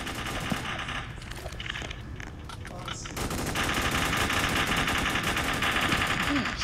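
Rapid bursts of automatic gunfire in the Roblox shooter Strucid, loud and continuous throughout, growing denser and more sustained in the second half.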